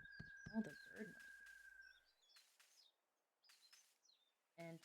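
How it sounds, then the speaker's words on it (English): Birds chirp in a Harvest Moon-style video game forest, with short high tweets and trills in scattered bursts, a brief synthetic tone early on and a soft voice briefly audible near the start. "the bird noise"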